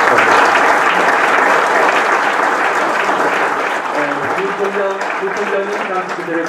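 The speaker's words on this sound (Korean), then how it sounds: "다시 한번 축하의 박수를 보내겠습니다" Audience applause at a university honorary doctorate ceremony, loud continuous clapping from a large crowd that thins slightly toward the end as a voice speaks over it.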